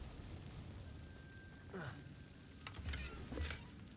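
Incendio fire spell cast in Hogwarts Legacy, a whooshing fiery burst with crackling pops over a steady rumbling game ambience, moderately quiet.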